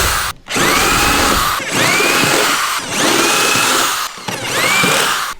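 Power drill with a 1/4 bit boring out spot welds on a Neon SRT4 quarter panel, four loud whining bursts as the bit bites into the sheet metal, separated by brief pauses, close and alone.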